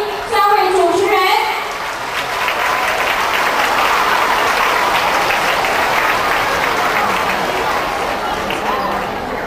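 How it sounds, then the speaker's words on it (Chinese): Steady audience applause at a primary school graduation ceremony welcoming three student hosts, loud and continuous, with children's voices calling out over the clapping at the start. "我们用最热烈的掌声欢迎三位主持人"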